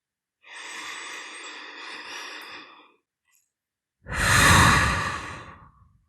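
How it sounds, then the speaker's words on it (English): A slow, deep calming breath: a long, soft inhale followed after a short pause by a louder, breathy exhale, close to the microphone in an otherwise silent room. "take 3 deep, calming breaths"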